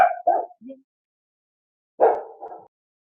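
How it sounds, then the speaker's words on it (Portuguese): A dog near a microphone during an online live lesson gives several short yips and barks in two quick clusters, close and loud, with silence between. "Não, André está com um cachorro"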